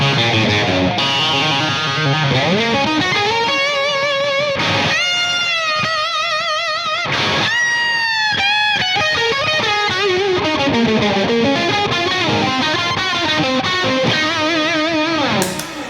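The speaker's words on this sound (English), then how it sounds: "Then I have the Benson Preamp," Electric guitar played through a Benson Preamp pedal, a tight-sounding overdrive, delivering distorted chords and sustained lead notes with bends and vibrato, loud and continuous throughout with no talking.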